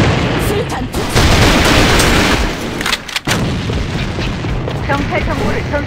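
A thrown grenade goes off in the shooter game A.V.A on the Dock map. A loud, sustained blast sits among dense gunfire that continues throughout, with voices in the background.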